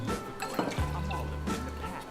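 Three ounces of gin, a bottom-shelf brand, poured from the bottle into a glass, giving a steady close liquid stream lasting over a second with a few soft bumps around it.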